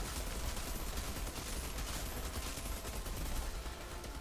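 A light machine gun fires continuously in the video game Outriders during a lava-arena boss fight, a dense, rapid rattle of shots heard fairly quietly and unbroken across the whole stretch.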